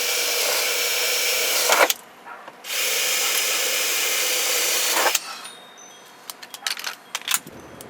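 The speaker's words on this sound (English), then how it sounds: "Drill out these holes with a 1/8 drill bit." A power drill with a 1/8 bit boring holes while fender flares are fitted on a 1999-2004 Jeep Grand Cherokee, two sustained high whirring runs broken by a short pause, then scattered clicks and handling noises.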